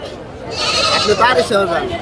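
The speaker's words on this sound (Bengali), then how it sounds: "সবই দেশি ছাগল সবই দেশি ছাগল" Local goats bleat at a livestock market, a few nasal calls close by, mixed with steady crowd chatter and voices talking.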